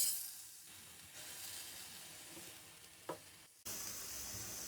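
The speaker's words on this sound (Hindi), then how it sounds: "इसका कलर चेंज होने तक हम इसको 3 से 4 मिनट फ्राई करेंगे।" Chicken pieces for restaurant-style Shinwari chicken karahi fry in a pan with a soft, steady sizzle and hiss, one brief clatter of stirring partway through, then the sizzle briefly cuts out and returns slightly louder, with no talking.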